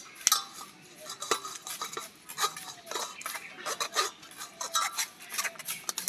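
Warm cooked green mango pressed through a strainer into a bowl, quick scraping and rubbing strokes with sharp metallic clinks of a utensil against the mesh, close and fairly quiet.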